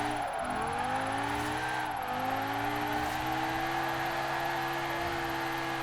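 A rear-wheel-drive Audi with a drift build in Forza Horizon 4 revs steadily through its gears, the engine note climbing and holding high near the limiter with a sustained loud drone.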